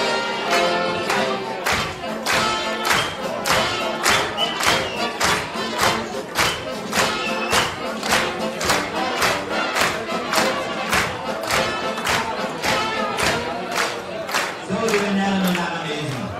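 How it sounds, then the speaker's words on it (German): Crowd applause and clapping fill a live cultural event in Schwerin honouring Bernie, a dense, steady roar of hands with rhythmic thumping beats and shouts throughout, loud and continuous. "Bitte ein Klatschmaß für Bernie."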